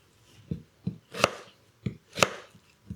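Knife chopping cucumbers into sticks on a cutting board, six distinct close thuds at a steady, unhurried pace with quiet pauses between cuts.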